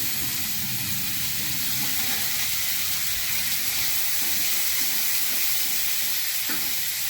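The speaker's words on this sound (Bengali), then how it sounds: "এবার ফুলকপিগুলো একটু ভাজা হবে" Cauliflower with turmeric fries in a pan for a rohu fish curry with bori, giving a continuous, even, loud sizzling hiss throughout.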